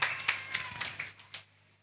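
A church audience claps for a performer named Cherry in a short, light burst of a few scattered claps that fades within about a second and a half, over a low steady hum.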